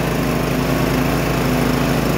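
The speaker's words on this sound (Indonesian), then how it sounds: "motor penggerak sentrifugal untuk sirkulasi airnya ya" A centrifugal drive motor runs at a well-drilling site, circulating water while a bore is sunk for a submersible pump in Tangerang Selatan, giving a loud, steady, close engine drone with no pauses and no talk.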